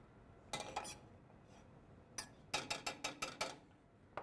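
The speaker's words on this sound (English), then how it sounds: "Just going to stir this around a little bit." A utensil knocks and scrapes against a pan while garlic and peas are stirred, sounding as a few sharp clinks and then a quick rhythmic run of taps, close and fairly quiet.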